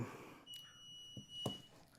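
Short electronic beeps in a school district board meeting room, a couple of brief tones separated by quiet gaps over a faint steady hum, with no talk.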